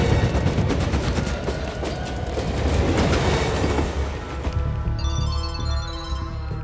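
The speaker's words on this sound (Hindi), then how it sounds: "लोकल ट्रेन 2 मिनट में प्लेटफॉर्म पर आएगी" A local train rumbles into a station platform with rapid rhythmic clattering of wheels over rail joints, then slows with squealing brakes and a steady hum.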